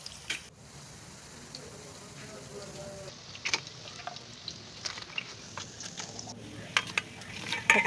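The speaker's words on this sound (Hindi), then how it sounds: "अब पकोड़े फ्राई कर लेंगे।" Quiet sizzling of pakoras frying in hot oil, with occasional clinks and stirring sounds from a pan, close by.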